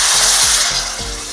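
Loud, steady sizzling hiss as mole sauce is poured into a preheated frying pan, with low clatter and a sustained bright crackle that fades slightly toward the end.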